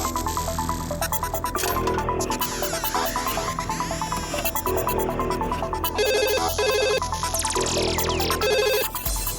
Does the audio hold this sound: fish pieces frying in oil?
no